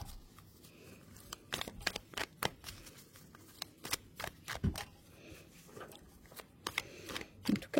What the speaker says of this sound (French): Elles sont très glissantes, ces cartes.